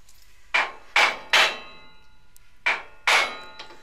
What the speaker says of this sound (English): grab the hammer and snap the vice open a little bit further